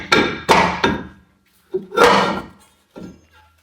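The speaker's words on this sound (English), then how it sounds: "Take a hammer and hit behind, and that will help knock your rotor free." Sharp metallic hammer strikes on a Chevrolet Colorado or GMC Canyon rear brake rotor ring out up close, three quick blows followed by a pause, then two more heavier hits.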